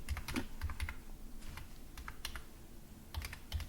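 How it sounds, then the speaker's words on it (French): Computer keyboard typing while entering a tool name in modeling software, with soft, close key clicks in small clusters and pauses between them, heard alone. "on va taper isométrique"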